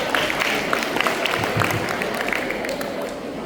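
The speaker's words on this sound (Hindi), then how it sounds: "जोरदार तालियों के साथ स्वागत" A crowd at a Hindi poetry recital applauds steadily, a dense wash of clapping that holds for several seconds with a voice faintly beneath it.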